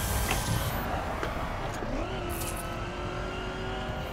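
Car engine in the racing video game The Crew drones steadily with a sustained whirring tone, a mild revving rise partway through, continuous and moderately loud.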